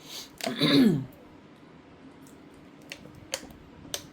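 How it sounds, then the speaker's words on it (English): A single short throaty cough or throat-clear bursts out near the mic, followed by quiet room tone with a few faint clicks. "just because I started to film, I'd start coughing or something"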